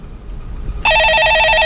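A telephone bell starts ringing partway through, loud and close, with a steady warbling trill that follows a stretch of quiet room noise.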